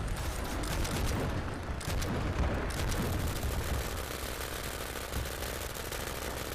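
A unit blowing up in the video game MAV, a dense continuous roar of explosions and rattling fire filling the whole stretch at steady loudness.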